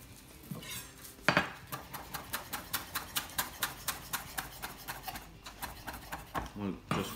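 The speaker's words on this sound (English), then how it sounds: "We'll just roughly chop that into our dressing." Parsley chopped roughly with a knife on a board, a quick run of crisp, evenly spaced taps heard up close, with a brief clatter before and after and a faint voice in the background.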